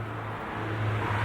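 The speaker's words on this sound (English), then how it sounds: "there's a car every now and again, and we're next to a fairly busy B road" A single car approaching on a fairly busy B road, its engine hum swelling steadily from moderate to louder over a constant low rumble, with no talk.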